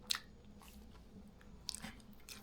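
Someone chews pandesal bread filled with ice cream, soft crunchy bites repeating in a few close, quiet bursts with faint background hum.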